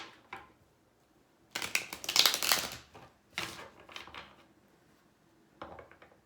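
Tarot cards are shuffled and drawn in close, dry bursts of riffling and sliding paper, with one long flurry in the middle, shorter rustles afterward, and quiet gaps between them.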